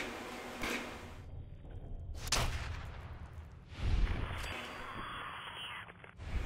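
Gunfire in the video game Fallout 4: several sharp, loud shots spaced a second or two apart, each with a booming tail, over a steady in-game ambience.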